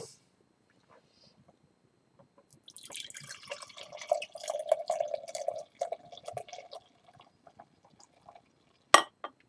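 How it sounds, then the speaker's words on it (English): Knee Deep Hop-De-Ranged quad IPA beer pours into a glass, a soft gurgling, splashing stream that builds for several seconds, then trickles and ends with a light clink. "Now, pour this baby right into the glass."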